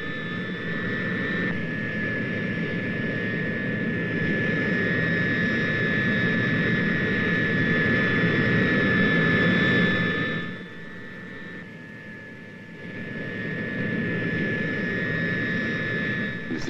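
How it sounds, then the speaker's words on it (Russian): Soviet turboprop aircraft engines running at an airfield before takeoff of the carrier plane for the RDS-220 hydrogen bomb test, a loud continuous roar with steady high whining tones that dips briefly and then resumes. "Заработали турбовинтовые двигатели."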